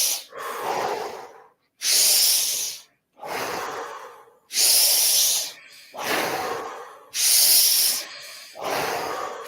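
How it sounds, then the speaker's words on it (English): Big, full, deep breaths in a guided breathwork session, about eight forceful rushing inhales and exhales in a steady alternating rhythm, close and loud with no talking. "We're going to do a few more breaths, big full breaths."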